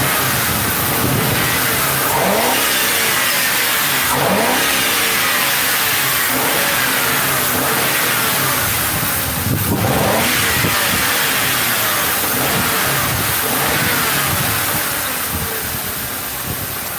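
Engine of a police car accelerating and revving, loud and close, rising and falling in repeated surges over a steady rumble before easing off at the end.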